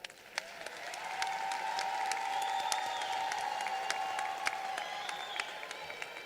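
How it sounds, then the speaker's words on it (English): An audience at a high school graduation ceremony claps in a sustained, moderate round of applause, with a few sharper individual claps standing out and a faint voice in the background. "So would you all give them a round of applause?"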